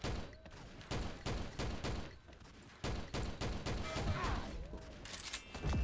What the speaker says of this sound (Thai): ใครยิงมาวะ